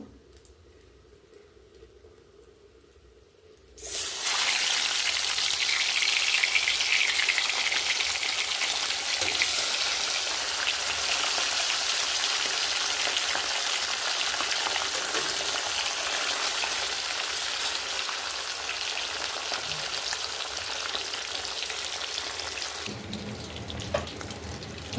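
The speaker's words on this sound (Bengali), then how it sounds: "এখানে যেগুলো বাকি এগুলো আছে ভেজে নেব" After a few quiet seconds, hilsa fish hits hot oil and a loud, steady sizzle takes over, continuing strongly before easing near the end.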